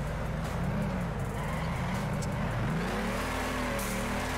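A drift car engine in the Torque Drift video game runs in fourth gear with a steady, high-revving drone. Its pitch rises and dips continuously, with no talking.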